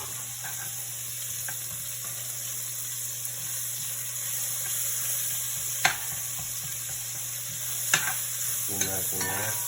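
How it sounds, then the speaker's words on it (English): Onions sautéing in canola oil in a pan for a homemade pot roast, a quiet continuous sizzle under a low steady hum, with a few sharp utensil clicks as they are stirred. "So we're just gonna add these onions. Saute these onions a little bit."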